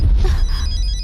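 A telephone rings unanswered, one short electronic ring burst standing alone over a low background hum.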